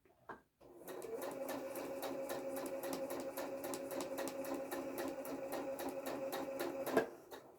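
A sewing machine stitches a quilt seam with a steady, even needle rhythm that runs for several seconds after a short click, then stops abruptly.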